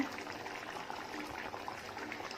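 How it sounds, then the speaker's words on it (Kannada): A soft, steady bubbling and sizzling of pepper chicken simmering in a pan with its liquid reduced, faint and continuous with no talking. "ನೋಡಿ ಚಿಕನ್ನು ಚೆನ್ನಾಗಿ ಬೇಯ್ತಾ ಇದೆ"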